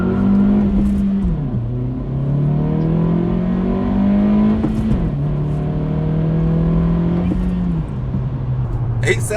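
A 2023 Acura Integra accelerates hard from a standstill in a 0-60 run, its engine note climbing loudly through several gears with brief dips at each shift, heard from inside the car.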